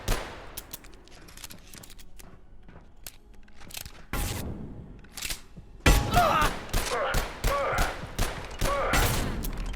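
Shotgun blasts and other gunfire in the game Abiotic Factor, a scattering of loud shots that grows denser and heavier toward the end, mixed with clattering impacts.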